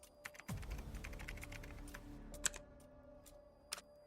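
Steady typing on a computer keyboard while coding a robot claw, with quick irregular key clicks and a few sharper taps over a faint background hum.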